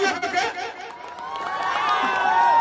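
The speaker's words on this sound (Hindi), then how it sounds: "एक जोरदार ताली" A wedding audience cheers in a burst of crowd noise, with shouts and whoops swelling toward the end and voices mixed in.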